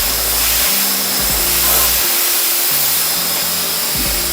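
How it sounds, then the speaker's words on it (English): A handheld blow dryer runs continuously and loud on a men's hair system, a steady roaring whoosh whose pitch shifts slightly as it is moved around while styling. "we're going to take our blow dryer and we're going to wrap it around and blow dry back"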